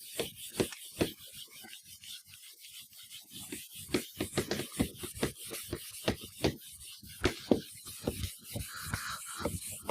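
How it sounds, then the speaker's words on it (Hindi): Steady scrubbing of writing off a board in a classroom, a run of short dry rubbing strokes in uneven rhythm, close and fairly quiet, with no talk over it. "मैं इसे रब करके हटाता हूँ।"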